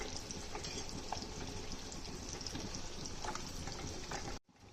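Eggs frying in a pan over a slow flame: a soft, steady sizzle and crackle runs throughout, faint and close, cutting off briefly just before the end.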